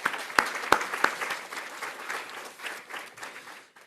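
An audience at a summit keynote claps, a few sharp near claps at the start giving way to dense, steady applause that gradually fades out.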